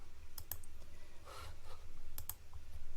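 A computer mouse gives a few sharp, close clicks in short pairs, separated by quiet pauses, as a button is pressed in payroll software; no one speaks.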